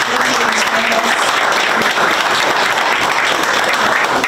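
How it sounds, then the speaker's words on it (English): A talk show studio audience claps loudly and steadily for a few seconds, a dense, close wash of applause with no pauses. "I want to give applause to her sister."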